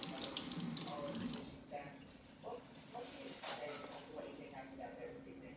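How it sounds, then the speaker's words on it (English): Tap water running to rinse a stained bacterial slide in a lab, a loud gush at first that drops to a softer trickle with light splashes, with faint talk in the background. "It's been 60 seconds, so we're gonna rinse it with tap water."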